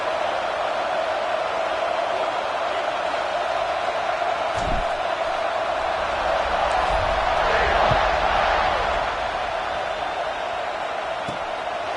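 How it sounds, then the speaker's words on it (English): A college football stadium crowd roars steadily during a kickoff in a Florida game, a dense sustained wash of cheering with a few whoops and thumps, loud and continuous with faint background commentary. "this crowd is feeling themselves after that last drive."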